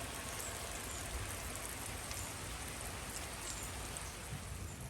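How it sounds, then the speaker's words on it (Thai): Steady rain falling outdoors, a dense even hiss of drops on surfaces that stays constant and fairly loud throughout, with no voices. "บรรยากาศฝนตก"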